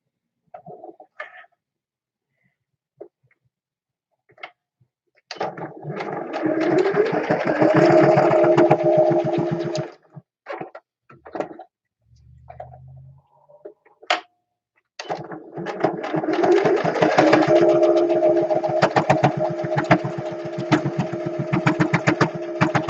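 A sewing machine stitches back and forth over a dart on a fabric face mask, running in two long steady whirring bursts with short stop-start runs between them, close and clear with no talking.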